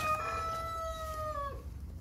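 A Sussex rooster crows once, a single clear drawn-out call that rises and then holds steady before tailing off after about a second and a half, standing alone close by over a low rumble of background noise.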